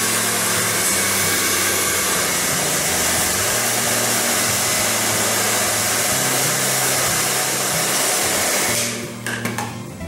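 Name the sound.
blow dryer heating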